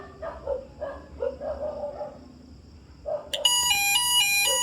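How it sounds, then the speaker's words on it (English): A DIY Arduino-powered fire alarm sounder lets out a loud, steady electronic tone partway through, after a stretch of scattered chirps and knocks. "now we will try the sounder, just a few seconds, just to see the functionality of the sounder"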